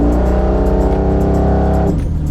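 A 700-horsepower naturally aspirated engine in a C10 longbed truck roars loudly up close, holding a steady high rev before cutting off abruptly near the end.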